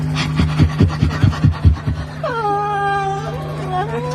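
Dogs pant in quick, rhythmic breaths close by, followed by a rising, wavering whine, with a steady electrical hum underneath.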